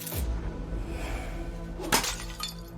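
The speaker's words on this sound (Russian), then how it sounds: "Разбить урну." An urn smashed in the game Creepy Tale 3, a single sharp ceramic crack and shattering burst near the middle, with brief clinking debris after over a low game ambience.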